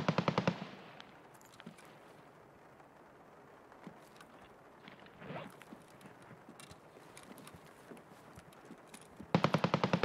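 Gunfire in the video game Escape From Tarkov on the Streets map: loud bursts of rapid shots open and close the stretch, with a few scattered, fainter reports and low ambience in between.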